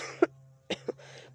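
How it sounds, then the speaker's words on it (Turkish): A person coughs nearby in a quiet room, with a sharp single cough followed by two shorter ones and a final brief cough at the end, over a faint low hum. "Daha hala öksürüyorum."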